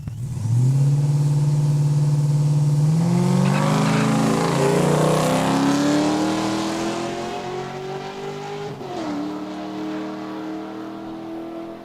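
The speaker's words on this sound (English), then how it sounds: "Running a Nissan Maxima." A Nissan Maxima launching and drag racing down a strip at Saskatchewan International Raceway, engine note climbing steadily through the gears with one shift break, loud at first then slowly fading as the car pulls away.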